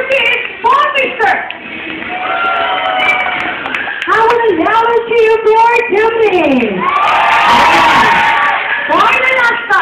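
Live crowd cheering and shouting at an event, loud and sustained through the clip, with whoops and yells rising toward a peak near the end, mixed with an announcer-style voice.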